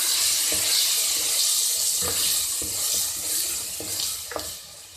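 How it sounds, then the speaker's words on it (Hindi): Garlic, turmeric and red chilli masala fry in a pan for a white lentil daal mash. A steady, close sizzle runs throughout, broken by a few scraping stirs. "ये लहसुन, ये जो हल्दी और सुरख मिर्ची है वो हमने इसके अंदर शामिल कर दी है और इसको भून लें।"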